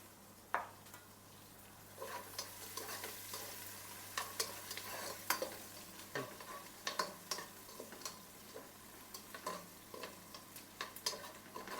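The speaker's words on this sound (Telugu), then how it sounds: "ఫ్రై అయ్యకుండా అనియన్ వేసుకోవాలా ఉల్లిపాయలు నాలుగు పచ్చిమిరపకాయలు" Onions and green chilies fry with whole spices in a pot for mutton biryani, a steady sizzle broken by repeated scraping stirs and light clinks of a utensil against the pan, close and fairly quiet.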